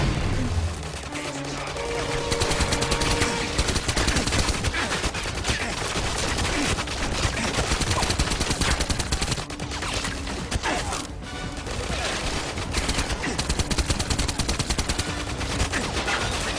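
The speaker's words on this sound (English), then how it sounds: "they will get into an all-out firefight with the enemy." A firefight in GoldenEye 007 Reloaded brings dense, continuous bursts of automatic gunfire mixed with crashes and impacts, loud and relentless over a game soundtrack for the whole stretch.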